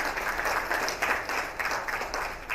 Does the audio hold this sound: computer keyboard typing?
no